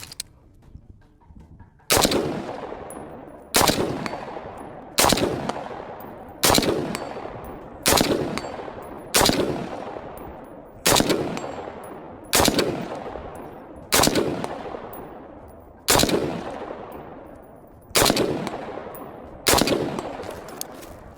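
Twelve loud rifle gunshots fired at targets in a timed drill, evenly spaced about every one and a half seconds, each sharp crack followed by a rolling outdoor echo, no talk between shots.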